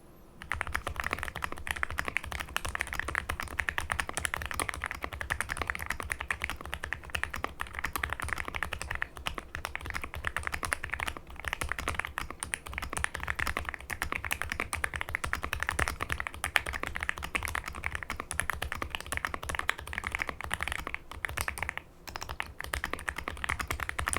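Steady, continuous typing on an Expomaker x Aula F65 PRO prebuilt mechanical keyboard, a dense stream of soft, deep keystrokes held at a constant close level for the whole stretch with no talking.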